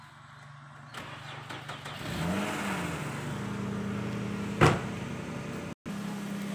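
A car that has sat unused for a long time is cranked and started, a low mechanical whir rising into a steady engine idle with a brief sharp knock partway through, heard from close by without talk.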